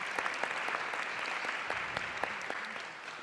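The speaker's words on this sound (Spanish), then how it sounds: "Un fuerte aplauso para Magdalena" Audience applause welcoming a speaker at an accounting conference on public-sector property, plant and equipment, a steady fairly distant patter of many hands clapping with scattered louder claps throughout, no talk over it.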